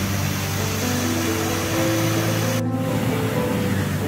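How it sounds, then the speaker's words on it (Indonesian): Waterfall spray and surf at Banyu Tibo beach in Pacitan, East Java, make a constant broad rushing roar with a low steady hum underneath, even and uninterrupted. "air terjun yang berada di pantai ini"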